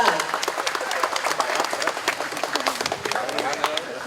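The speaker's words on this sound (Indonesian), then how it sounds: "Ya, tepuk tangan anak-anak." Children applauding at the opening of Taman Bahagia at SMA Negeri 2 Bandung, a dense, continuous clapping crowd with some voices mixed in.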